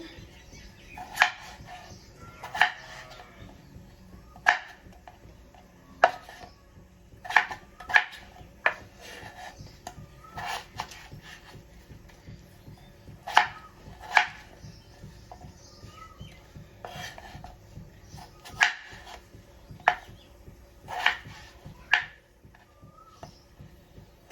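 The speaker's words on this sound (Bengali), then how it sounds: "এরপর কেটে নেব আলু।" Potatoes chopped with a knife on a board, a faint, irregular series of sharp taps spaced a second or two apart, close but quiet over a low background hum.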